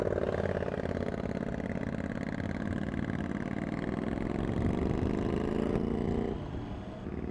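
A Triumph Tiger 800 XCx motorcycle engine drones steadily while riding, a loud, close mid-pitched hum with rising tones as the revs climb, easing off just before the end.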